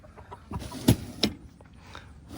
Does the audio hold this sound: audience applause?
no